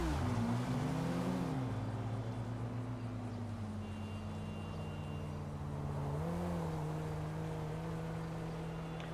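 A Weaponized Tampa, an armed muscle car in a video game, pulls up with a deep steady engine drone and low harmonic hum, its pitch dipping and rising briefly as it settles into a continuous close idle with no talk.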